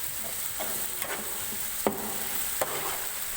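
Ginger paste fries in a pan for fish curry, giving a continuous soft sizzle with occasional scraping clicks of a spoon stirring against the pan.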